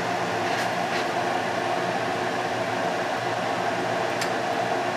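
A salvaged squirrel cage blower fan mounted in a window runs with a steady, dense whoosh and hum, constant and close throughout.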